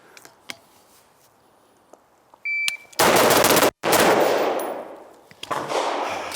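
Rapid shots from an AR rifle fired outdoors at a target about ten yards away: a few isolated clicks and clanks, then two long, loud bursts of fast gunfire separated by a short gap, tapering off at the end.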